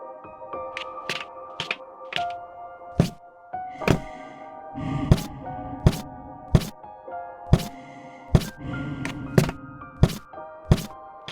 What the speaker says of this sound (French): Je reconnais, c'est le bruit de mes escaliers